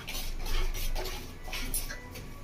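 A metal spoon scraping and stirring spice paste in a pan for a Bengali village-style prawn curry with cashew and poppy seed, steady close clinks and scrapes over low background noise.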